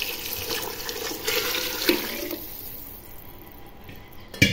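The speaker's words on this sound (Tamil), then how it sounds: "நாங்கள் தண்ணி ஊற்றிடலாம்." Water pours steadily into a cooking pot for vegetable biryani with a rushing, splashing sound that fades toward the end, close and without talk.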